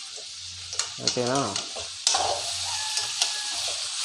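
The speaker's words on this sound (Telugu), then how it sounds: "ఇప్పుడైతే మళ్ళా తిప్పుకుందాం" Cabbage curry frying in a pan at home as it is stirred, a steady sizzle with soft scraping strokes, and a voice briefly speaking over the cooking.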